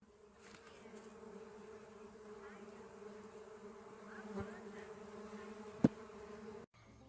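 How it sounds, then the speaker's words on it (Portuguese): Mandaçaia stingless bees buzzing around their colony, a steady, close insect drone with individual bees flying past and a couple of sharp knocks near the end. "ao manusear suas colônias, muitas abelhas saem da colônia e ficam voando nas redondezas"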